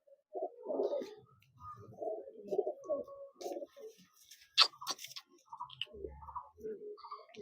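Imported Teddy pigeon cooing in a quiet room, a run of soft, close, repeated low coos with brief pauses and a few small clicks and rustles between them.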